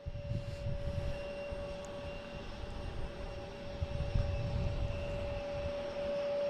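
A JetBlue Airbus A320 jet on approach to Boston Logan, a steady distant engine roar with a constant tonal whine, holding even and unbroken throughout.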